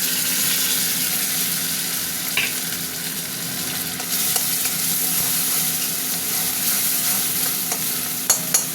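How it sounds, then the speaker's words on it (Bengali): Grated onion paste fries in a pan, giving a steady, loud broadband sizzle throughout with occasional stirring scrapes and clicks near the end, no voices. "পেঁয়াজটা ভাজা ভাজা হোক"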